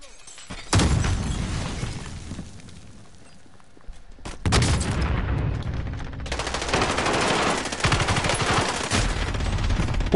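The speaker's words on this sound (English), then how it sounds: "Two people shooting at me." Gunfire in Call of Duty: Warzone, loud close bursts of rapid automatic shots with sharp cracks, a pause, then heavier sustained firing through the second half.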